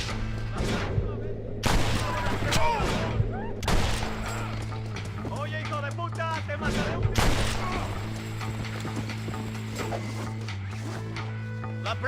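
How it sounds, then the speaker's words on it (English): Rapid gunfire from the Red Dead Redemption western shooter, several loud sharp shots in quick bursts over a steady low game hum, with a voice talking now and then between them. "I was concentrating on shooting heads"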